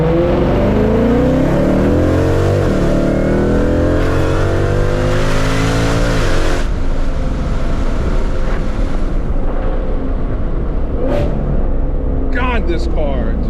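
Zeus car accelerating hard in second gear, a loud rising engine roar climbing through the revs with rumbling exhaust, then easing off into a lower drone; a voice talks over the engine.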